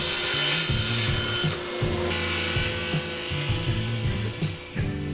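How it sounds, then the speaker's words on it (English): A saw cuts steadily through a wooden desk panel, trimming it to final size with loud, continuous rasping strokes in a rhythmic back-and-forth pattern and no talking. "Now I trim the bottom panel to final size."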